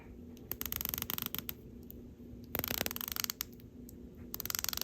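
The rotating bezel of an Aragon Divemaster dive watch is turned in close, crisp bursts of rapid clicks, with short pauses between the runs of ratcheting detents.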